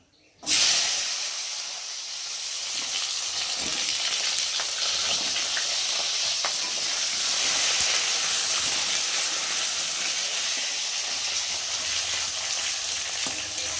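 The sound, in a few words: cut potatoes frying in oil with cumin tempering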